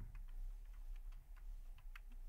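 Quick, faint keystrokes on a computer keyboard while a git commit message is typed, an irregular string of light clicks over a low background hum with no talking.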